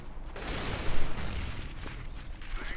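Gunfire in the CS:GO shooter game, heard from a match replay: a burst of rapid shots peaking near the middle, then scattered quieter cracks over a rumbling game background.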